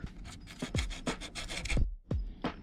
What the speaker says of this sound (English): Got the roughest sandpaper.